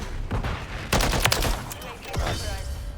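Gunfire rings out in Call of Duty Modern Warfare 3, a few sharp bursts and single shots at moderate level amid game ambience, spaced irregularly over a few seconds.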